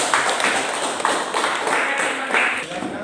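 Group applause in an Indonesian classroom for a student group, steady clapping from several people with a few louder swells, fairly close and without talk over it.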